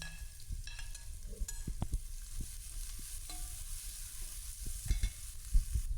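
Sliced onions sizzle and fry in hot oil for Malabar chicken biryani, a steady close crackle with a spoon scraping and stirring against the pan at intervals, no voices.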